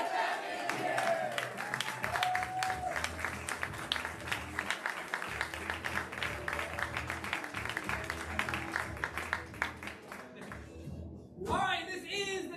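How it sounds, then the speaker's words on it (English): An improv show audience claps in a dense, loud round of applause with crowd yelling mixed in, cutting off near the end before a voice speaks briefly. "we're going to yell, get back in here with a round of applause."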